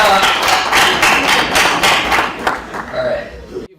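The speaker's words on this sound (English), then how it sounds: "So can everyone just give her a round of applause for coming up here?" An audience at a seminar claps in a round of applause, a steady dense patter of many hands filling a hall, close and loud, fading quickly at the end.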